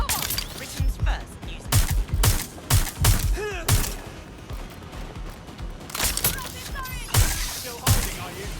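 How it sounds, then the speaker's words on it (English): Bursts of gunfire in the video game Watch Dogs Legion, several sharp shot clusters spread across the scene with game voices talking between and over them. "I'm getting shot!"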